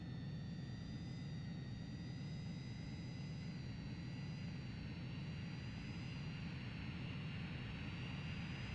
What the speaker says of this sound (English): Refueling complete.